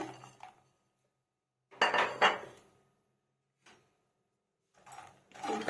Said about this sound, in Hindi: सबसे पहले हम ड्राई रोस्ट करेंगे ये फूल मखाने